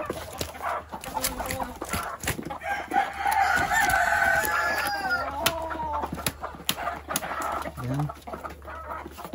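Chickens cluck and a rooster crows on a farm as the flock crowds around fresh vegetables, with excited calls building to a loud burst in the middle and a voice speaking briefly.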